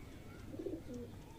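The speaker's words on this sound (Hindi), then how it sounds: "ये नस्ल बनाने वाला कबूतर है जी" A breeding pigeon gives a soft, low cooing call, a brief murmur rising near the middle and fading out, heard close and fairly quiet over a faint background hum.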